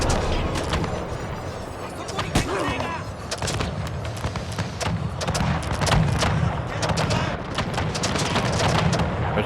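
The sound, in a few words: musket gunfire from Pike & Shot Total War video game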